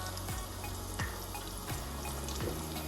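Plaice fillets frying in hot oil, a steady dense bubbling sizzle filling the whole span, close and continuous with a few soft pops and no talking.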